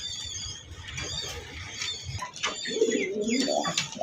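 Pigeons coo at a pigeon farm, soft low throaty calls repeating close by alongside faint chirps from other birds, while someone talks over them.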